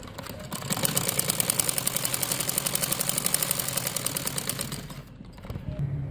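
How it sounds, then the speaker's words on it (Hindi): A sewing machine runs steadily while stitching an umbrella frock, its rapid even needle rhythm close and continuous for about four seconds before stopping. "यहाँ पे मैं इसको सिलाई"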